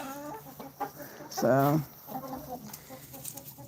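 Backyard chickens cluck and squawk nearby, with one loud, drawn-out call in the middle and softer clucks around it, while a person speaks briefly.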